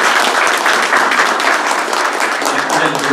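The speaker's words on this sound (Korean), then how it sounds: "큰 박수 부탁드립니다" Sustained, loud applause from the audience at an annual general meeting of a ROTC social-contribution association, dense and even throughout as members are introduced.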